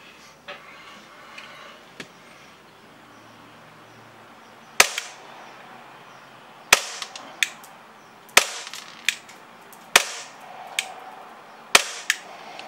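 An HPA airsoft Glock pistol with a rocket valve upgrade fires five sharp, snappy shots at close range, each followed by quick mechanical clicks, after several seconds of near quiet broken only by faint ticks.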